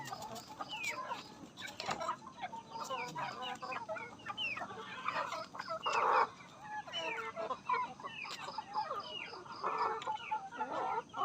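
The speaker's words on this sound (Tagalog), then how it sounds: "Ito yung mga Rhode Islander na manok natin." Rhode Island Red chickens on a small farm cluck and chatter steadily. Many birds are heard at once, with overlapping calls at moderate distance and a few louder squawks.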